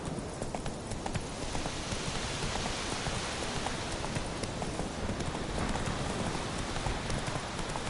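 Roach the horse's hooves in the Witcher 3 video game, a steady, continuous clip-clop of trotting under an even hiss of rain, close and unbroken throughout.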